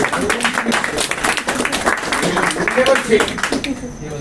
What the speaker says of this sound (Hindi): यस, जोरदार तालियां।